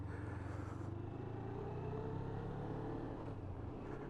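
Suzuki Inazuma motorcycle ridden through heavy road traffic, a steady close engine rumble with a low droning tone that holds throughout without pause.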